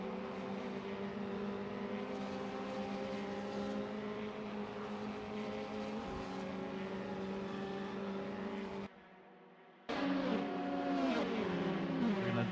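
Prototype race cars, including LMP3-class machines, roar around Daytona in a racing video game, a dense layered engine drone from several cars at once that briefly drops away before surging back louder with rising revs.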